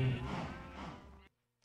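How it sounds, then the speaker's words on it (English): Cow mooing in the Minecraft video game, a single drawn-out, low, nasal moo lasting just over a second, fairly quiet, then abrupt silence. "Wow, we have a lot of cows here."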